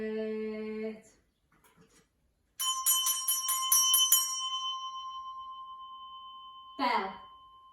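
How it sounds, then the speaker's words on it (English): A small handbell rings in a bright burst of repeated strikes, then a long sustained tone that slowly decays, in a phonics lesson; a voice speaks briefly before and after. "Bell."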